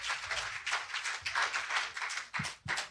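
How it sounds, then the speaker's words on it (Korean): Audience clapping for a speaker's introduction at a digital asset investment forum, a steady patter of many hands at moderate, somewhat distant loudness, with a few sharper individual claps near the end and no talk over it. "박수 부탁드립니다"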